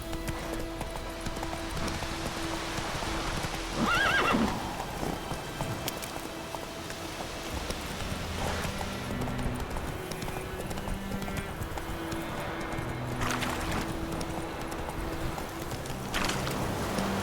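Roach, a horse in The Witcher 3, gallops with steady clip-clop hoofbeats through rain. The hooves stay close and continuous under the patter of raindrops and a low musical bed.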